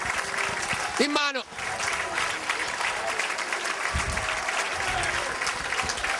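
Football fans in the stands applaud Pordenone after a match against Delta Porto Tolle, a steady crowd clapping that runs through the whole stretch while a commentator speaks over it.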